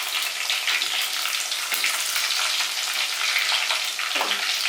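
Ginger frying in hot oil for an elephant yam pickle, a steady dense sizzle and crackle that fills the whole stretch without pause, close and fairly loud, with a faint clink near the end.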